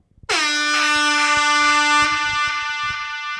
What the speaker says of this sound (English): You got an air horn.